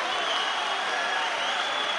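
Spectators at a professional boxing match cheering and clapping, a dense, sustained roar of crowd noise with applause blended in, steady throughout at a fair distance.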